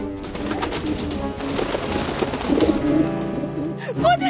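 Pigeons coo softly in a dense, busy mix with music-like tones and background noise, the calls brief and partly masked.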